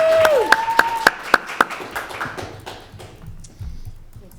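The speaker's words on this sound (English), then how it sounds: "A round of applause for me." Scattered applause from a small audience at a business accelerator's final presentations: a handful of distinct claps that thin out and fade, with a brief tonal voice at the start.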